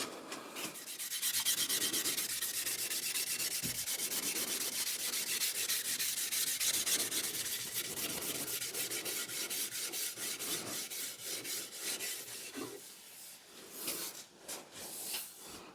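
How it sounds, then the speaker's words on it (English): Fine grit steel wool is rubbed briskly over a shaped wooden axe handle to burnish it. The steady, close, hissing scrub runs continuously with a rhythmic back-and-forth texture and eases off toward the end. "I'm just taking some fine grit steel wool and kind of rubbing the handle down."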